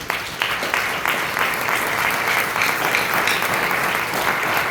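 Church congregation applauding the Lord during a Spanish-language Christian service, dense steady clapping from many hands throughout, fairly loud and continuous with no break.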